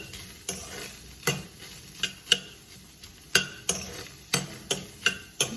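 Onions stirred in a dry pan with no oil, giving a run of sharp, irregular scraping clicks and taps from a utensil over a faint steady sizzle, close and moderately loud.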